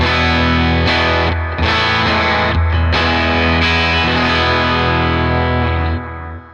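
A loud, distorted electric guitar plays chords and sustained notes through a Matchless Chief 100 amp with mismatched speakers, full and saturated, ringing out and trailing off at the end.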